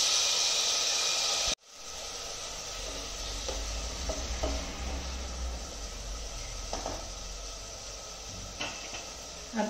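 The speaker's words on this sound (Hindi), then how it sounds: "इसमें मैं टमाटर ऐड कर रही हूँ" Steady sizzling of tomatoes frying with chillies in a pan after a sudden thud, with occasional stirring clatter, continuous and fairly close.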